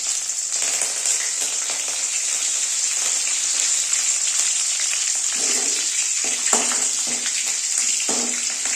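Green chillies and curry leaves frying for upma, a steady loud hiss and sizzle of hot oil with occasional stirring clinks and spatters, close up, with no talking.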